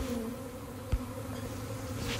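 A honeybee swarm buzzing around a catch box set on a tarp, a steady dense drone of many wings with a brief closer pass partway through, fairly faint and continuous.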